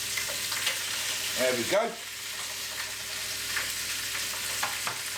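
Chicken pieces fry in a pan for a one-pot winter dinner, a close, steady sizzle and crackle that runs throughout, with a brief stir or scrape partway and a short spoken remark over it.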